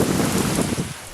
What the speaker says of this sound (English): Burst of rain like this is very welcome here